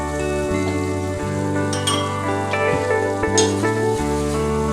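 Maida flour cooking in butter or oil in a pan over a low flame gives a soft, steady sizzle with occasional spoon clinks against the pan, backed by a constant humming tone.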